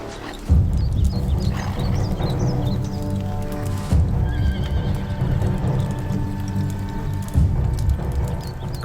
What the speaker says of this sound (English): Bring me my horse.